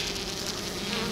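Honeybee colony buzzing inside a hive box, a dense, steady drone close to the microphone with no voices.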